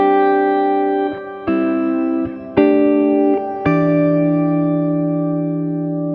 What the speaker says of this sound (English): Here is the Shimmer sound, which I find sounds better on slightly darker settings and a little bit behind the guitar